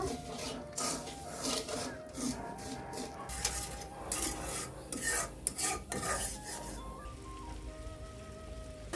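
Sugar syrup being stirred in a pan for mango aamsotto, a steady scraping and rasping of a spoon against the pan with soft bubbling, close and moderately loud, with no talking.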